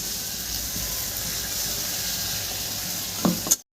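Ground spice paste with chopped tomato hitting hot oil in a pan of fried crab, a steady close sizzle and hiss that flares briefly with a couple of stirring clatters near the end before cutting off.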